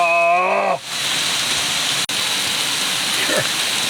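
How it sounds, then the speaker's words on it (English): Torrential downpour hammering steadily, a dense broadband hiss of heavy rain that continues unbroken after a brief tonal sound at the start. "we are talking some torrential downpours"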